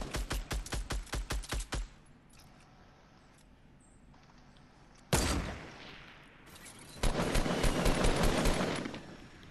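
Rapid bursts of gunfire in the video game Fortnite during a squad Battle Royale match: a tight string of shots, a pause of quieter ambience, then a loud blast and another dense volley of automatic fire.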